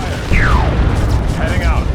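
A grenade blast from the video game Dawn of War II: Retribution bursts loudly about a third of a second in, then rumbles on amid swooping battle effects and other game sounds.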